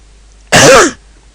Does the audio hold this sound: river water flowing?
no